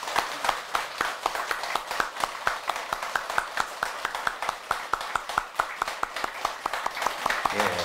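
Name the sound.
audience applause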